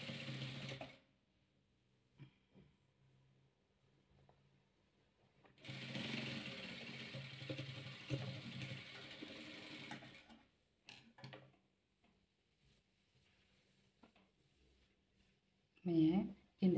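A sewing machine stitches patchwork fabric pieces for a Windblown quilt, heard faintly: first a short run, then a longer, steady stretch of stitching, followed by scattered soft handling noises.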